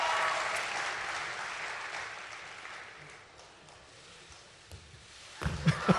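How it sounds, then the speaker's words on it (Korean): Audience at a Golden Glove baseball award ceremony giving a round of applause, strong at first and gradually fading, followed by a few sharp clicks or thumps near the end. "큰 박수 한번 부탁드리겠습니다"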